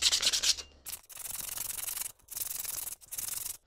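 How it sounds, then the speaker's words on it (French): Hand sanding with 80 grit sandpaper on quad ATV wheel hubs before painting: close, raspy back-and-forth strokes in three sustained bursts separated by brief pauses. "On va conclure par un ponçage à la main au 80, histoire de finir la surface, avoir un aspect correct avant la peinture"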